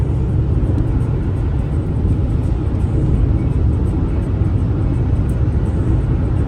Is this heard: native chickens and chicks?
no